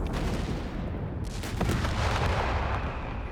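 Airburst artillery in Company of Heroes 3 bursting in rapid succession, a dense rolling barrage of booms and cracks at moderate distance over continuous battlefield rumble.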